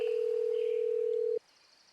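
A single steady telephone tone holds for over a second and then cuts off abruptly, leaving quiet line hiss.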